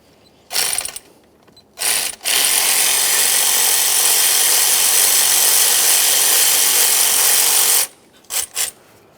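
Ratchet wrench loosening a 12 mm bolt beside the alternator on a Toyota Sienna, with a few short clicking bursts and then one long, loud, steady ratcheting run, close by and without talk.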